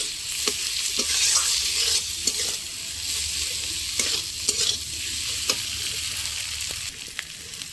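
Green banana pieces frying in a pan, a constant bright sizzle of hot oil with repeated scraping and clattering strokes of a spatula stirring, close and moderately loud, with no talking.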